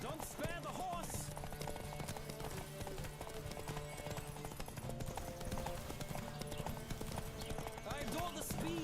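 Hooves clip-clop at a fast gallop on horseback in The Witcher 3, a steady drumming rhythm under constant game music, with a brief whinny and a voice talking over it.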